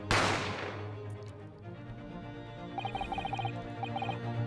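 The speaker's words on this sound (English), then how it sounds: "You heard the gunshot, you mean?" A single sharp gunshot in The Great Ace Attorney Chronicles video game cracks loudly at the start and fades in a long reverberant tail, followed by soft game music with chiming notes and no talking.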